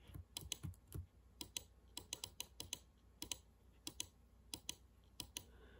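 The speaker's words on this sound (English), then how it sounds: "And don't mind my mouse clicking" A cheap ten-dollar computer mouse clicks in rapid, irregular bursts during a Bed Wars game, close and crisp with no voice.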